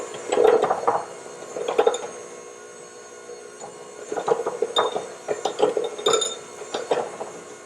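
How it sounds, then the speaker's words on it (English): Chocolate cake batter being mixed with dry ingredients in a bowl, in quiet bursts of clinking and scraping as a utensil knocks against the bowl's sides, with short pauses between strokes. "You want to mix it all until you don't have any more lumps on here"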